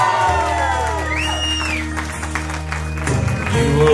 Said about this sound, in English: Cheer for him out there, ladies and gentlemen.